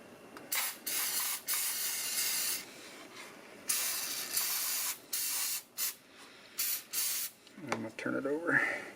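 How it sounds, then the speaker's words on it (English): Repeated bursts of aerosol spray paint hiss close up as the inside of a diecast Barracuda car body is sprayed down, each short burst stopping and starting, with brief handling noises near the end. "So I'm going to spray down the inside first"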